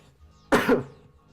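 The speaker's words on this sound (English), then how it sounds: "so you have to excuse me if I'm coughing." One short, harsh cough from someone coming down with the flu, close and dry, with quiet room tone before and after.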